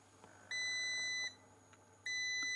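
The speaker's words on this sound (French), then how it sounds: "dès qu'on dépasse la température indiquée, j'ai une alarme" Two long, steady electronic beeps from a Parkside PWBKA 4 A1 thermal camera's over-temperature alarm, each lasting under a second, sounding a high pure tone over a quiet background hum.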